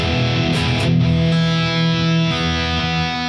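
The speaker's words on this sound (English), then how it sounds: "That you hear already the big reverb, and that's indeed the Stratocumulus on 17 seconds" A loud, distorted electric guitar riff runs through a Fractal FM9/Axe FX III with a huge, long Stratocumulus reverb. The chords are thick and sustained, and their tails wash into one another, with no voices.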